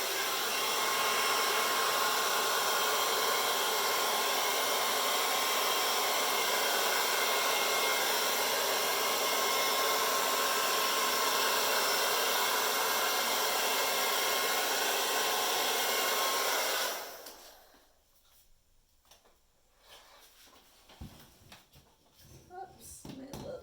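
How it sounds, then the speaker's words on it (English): A hairdryer blasts loud and steady for about seventeen seconds while spreading white fluid acrylic paint, then switches off, leaving faint handling sounds and small knocks. "I'm actually going to use the hairdryer to spread the white out."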